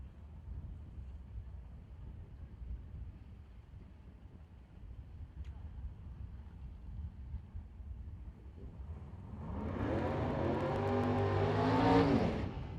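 At a drag racing event, a 1966 Chevrolet drag car with a 590 cubic inch engine does a burnout. After a stretch of quiet crowd ambience, a loud engine roar rises sharply near the end and peaks before easing off.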